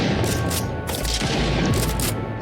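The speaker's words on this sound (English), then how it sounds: "It still keeps shooting even though the bot has died." Rapid automatic gunfire from a bot in an Unreal Engine 4 third-person shooter, loud continuous bursts of shots with booming low thuds, running without pause and no voices.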